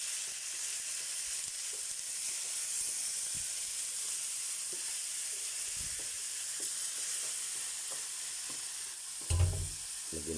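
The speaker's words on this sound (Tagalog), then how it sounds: "Lagyan na po natin yung karne." Pork meat sizzles steadily as it goes into a hot pan for kaldereta, a continuous bright frying hiss with scattered small crackles and a brief clatter of stirring near the end.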